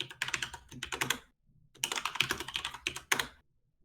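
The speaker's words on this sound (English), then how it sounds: "your keyboard's really loud" Loud computer keyboard typing in bursts of rapid clattering keystrokes, with a short pause in the middle, close to the microphone and heard alone.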